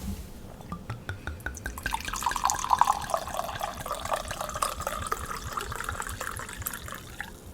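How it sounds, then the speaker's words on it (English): A drink is poured into glasses in a studio: a soft, close trickle with small drips that swells into a fuller stream partway through, then keeps running steadily, with no talk. "This is the first pour in the new Vibration Studio."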